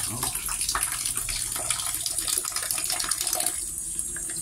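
Water runs continuously from a tap, a bright splashing hiss with small gurgles throughout, fairly close and without talk.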